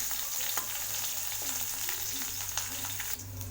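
Chopped ginger and green chili fry in hot oil in a pan, with a continuous close sizzle and occasional light scrapes of a stirring spoon.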